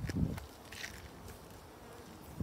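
Honeybees buzz steadily around an opened hive, a soft continuous hum with a brief louder burst at the start, close by.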